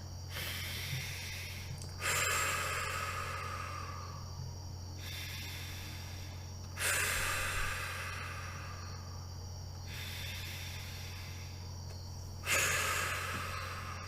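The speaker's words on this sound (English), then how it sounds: "let us prepare to connect and to answer a question with 3 deep cleansing breaths" Three slow, deep cleansing breaths taken close to the microphone, each a long airy rush in and out, spaced evenly several seconds apart over a low steady hum, with no talking.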